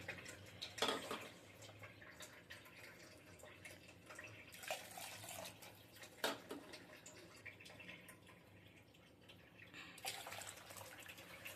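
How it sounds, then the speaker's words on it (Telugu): Water is poured from a cup into a bowl of yogurt to make buttermilk, giving faint, intermittent splashing and trickling sounds in a quiet kitchen. "అదే కప్పుతోటి 3 కప్పుల నీళ్ళు పోసుకోవాలి ఇందులో"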